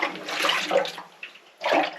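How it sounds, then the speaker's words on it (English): Liquid sloshing inside the fuel tank of a BMW 1150GS motorcycle, being restored after paint stripper was used, in two bursts of swishing with a short pause between, close and fairly loud, with no talking. "it sounds like there's some water in there."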